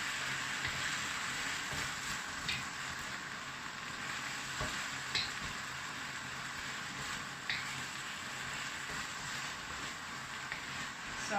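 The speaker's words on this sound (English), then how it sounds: "you just need to keep stirring it, otherwise it's very easy to get burnt" Potatoes and pork frying in a pan while being stirred, a soft continuous sizzle with faint scraping strokes and small clicks spread evenly throughout, no talking.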